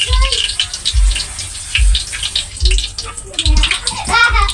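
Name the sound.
washing carrots with running water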